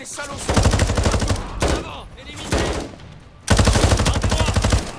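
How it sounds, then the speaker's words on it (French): Heavy machine-gun fire from the video game Modern Warfare comes in loud, rapid bursts separated by short pauses, with the final burst running longest. "J'avoue, elle fait mal la mitrailleuse là."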